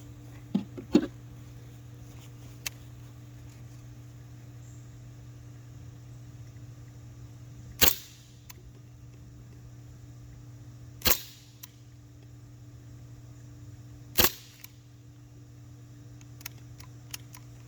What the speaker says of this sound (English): Next up, I'm going to do a velocity test, or at least try to, with this sunlight. The first 5 shots will be with the factory magazine.